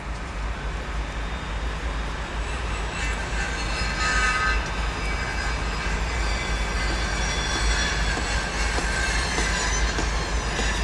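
A train rolls through the Skagway train station with a continuous heavy rumble, rhythmic wheel clatter over the rails and faint high squeals of the wheels, loud and steady throughout.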